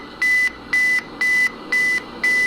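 A camera self-timer beeps five times in an even, steady rhythm, each tone short and clear, close by with quiet background and no talking.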